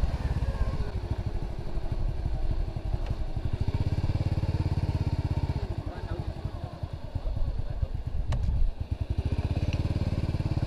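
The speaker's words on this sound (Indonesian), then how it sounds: "Beriringan banyak motor dari bawah." Many motorcycles ride up a mountain road on Mount Telomoyo in Indonesia, with a close, continuous, pulsing engine rumble that swells and fades slightly as the bikes pass.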